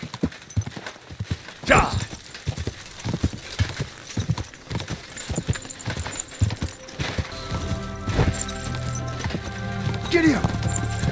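Horse galloping in Kingdom Come: Deliverance 2, hooves pounding in a steady, loud clip-clop rhythm close by, with a brief whinny and someone shouting over the hoofbeats.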